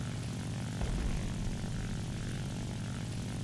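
A Mitsubishi J2M3 Raiden fighter's propeller engine drones steadily and loudly in War Thunder, a continuous low-pitched roar with a brief surge near the first second, no voices present.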